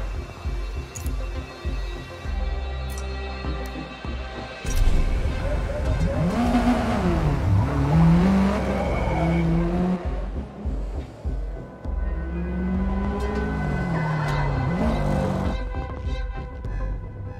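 A race car runs practice laps in Forza Motorsport 8, its engine droning steadily and loudly, with rising and falling revs as it accelerates and shifts through corners, sustained throughout with no talk.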